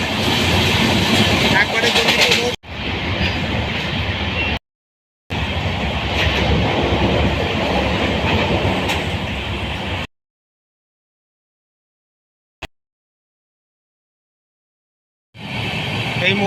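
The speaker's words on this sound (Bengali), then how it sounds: "ধুলিয়ান গঙ্গা স্টেশন স্কিপ করে যাচ্ছে আমাদের সাইরান কলকাতা এক্সপ্রেস" The Sairang–Kolkata Express runs through Dhulian Ganga station without stopping, its loud, rattling roar coming in long bursts broken by stretches of silence.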